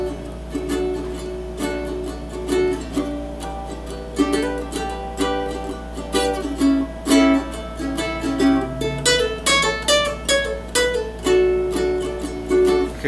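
Plucked guitar lick played at a steady tempo, bright picked notes ringing out in quick succession over a low sustained hum, close and clear with no talking.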